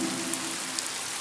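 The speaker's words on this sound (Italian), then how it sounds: "La pioggia! La pioggia!" Rain falling in a Pocoyo cartoon, a soft steady patter of drops with a few faint brighter splashes, quiet and brief, no voices.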